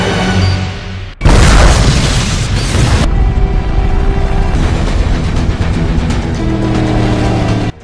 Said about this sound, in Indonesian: Hingga ketika bom meledak, Bond dan Dr. Swan berhasil selamat dengan menaiki perahu.